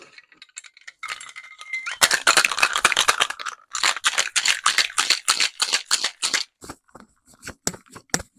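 Ice rattles hard inside a cocktail shaker, shaken vigorously in fast rhythmic bursts for several seconds, then slowing to a few final knocks.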